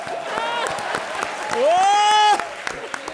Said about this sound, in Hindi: ये हुई टक्कर की बात, तालियां जरूर कर दो